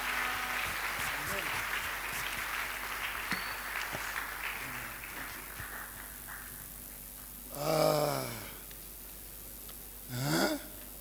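A church conference congregation claps hands to acclaim the Lord, a dense patter of applause that fades over several seconds. Two short vocal bursts follow.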